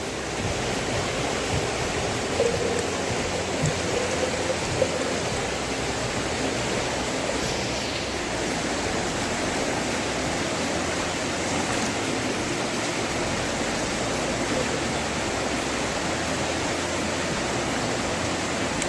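A creek beside a hiking trail flows with a steady, full rushing wash of water that holds constant throughout, with no voices.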